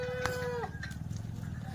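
Kathewadi goats bleat on a farm: one clear wavering bleat early on, then the animal's calls fade into a low background of farm noise and shuffling, with no talk.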